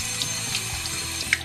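Cold tap water streaming from a faucet over a clear dental retainer at a sink, a steady splashing hiss with small clinks, close by and without speech.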